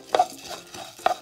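Oats being stirred while toasting in a pan for atole, a few close, sharp scraping strokes of a utensil against the pan with dry rustling between them.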